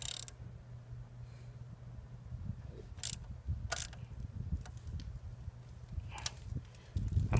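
A ratchet tightens the axle on a Yamaha XSR900 motorcycle, giving a few faint, scattered clicks and mechanical knocks over a low background hum, with no talk.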